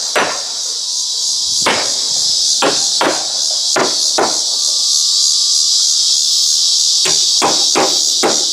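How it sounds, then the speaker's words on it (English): Loud, close hammer blows driving protruding nails during home maintenance, about ten sharp strikes in uneven bursts with pauses between them, over a constant high hiss. "whenever you see nails that protrude, just hammer them in"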